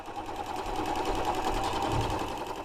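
A sewing machine stitches kuspuk fabric, a fast, even mechanical chatter running steadily and close for a few seconds with no talking.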